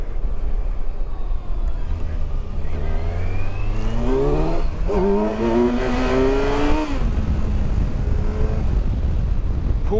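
A Kawasaki Versys 1000 motorcycle pulls hard in first gear, its engine note climbing steadily in pitch over several seconds, dipping briefly at a shift point, then rising again loudly under steady wind noise before easing off.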